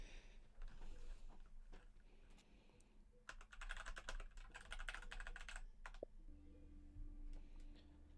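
Rapid clicking of a computer keyboard with rough key travel, with bursts of dense typing over steady background hum during an Overwatch 2 session.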